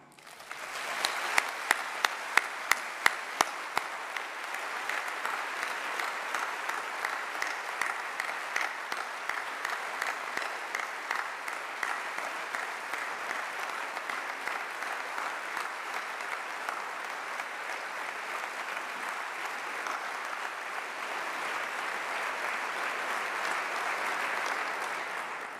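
An audience bursts into sustained applause saluting Charles Aznavour at a formal ceremony, starting with a few sharp claps, then swelling into steady, dense clapping from a large hall that continues for about twenty-five seconds.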